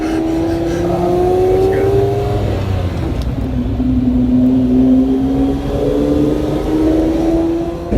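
A Lamborghini LM002 off-roader with a Diablo-derived V12 revs hard under acceleration, a loud, continuous rising engine note heard from inside the cabin, climbing, dipping and climbing again across the clip.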